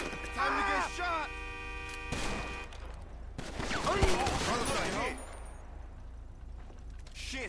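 Bursts of gunfire crackle in Grand Theft Auto V, a few sharp volleys mixed with clattering shots and mechanical sounds, with voices talking over the action.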